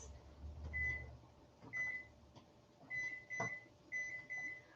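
Series of short electronic beeps as a timer is set, two-tone chirps repeating in quick bursts, clear and close in a quiet kitchen with no talking.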